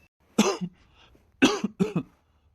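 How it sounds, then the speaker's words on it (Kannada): Three sharp, close coughs: one burst, a pause, then two more in quick succession. "ಅಕ್ಕ, ಯಾಕೋ ತುಂಬ ಕೆಮ್ಮು ಬರ್ತದೆ"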